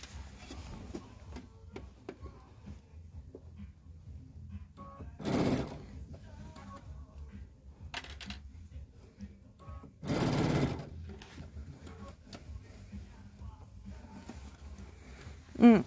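A domestic sewing machine stitches a purse made from a fabric panel, running in two short, loud whirring bursts separated by quieter stretches with faint background sounds.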